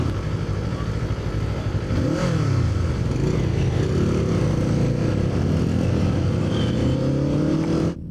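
A Kawasaki Eliminator 500 cruiser motorcycle engine rumbles steadily while riding, with the pitch rising and falling as it speeds up, heard close with some wind noise.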